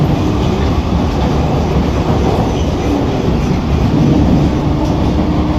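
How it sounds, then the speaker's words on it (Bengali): An AC local train on the Sealdah–Kalyani line running between stations gives a continuous, loud, close rumble with faint rhythmic clatter, heard steadily with no voices. "ট্রেন এই মুহূর্তে পার করছে জগদ্দল স্টেশন।"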